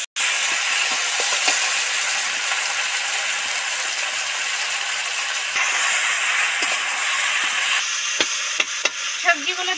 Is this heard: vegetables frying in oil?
yes